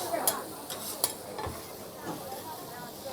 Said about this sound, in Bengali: দেখুন এই সবজিটা ভেজে নিয়েছে, এর মধ্যে এখন এই চাউমিন দিয়ে দিয়েছে,